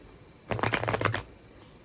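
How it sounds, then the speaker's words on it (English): A quick riffle of cards being shuffled, a short burst of crisp flapping in a quiet room. "One more shuffle here."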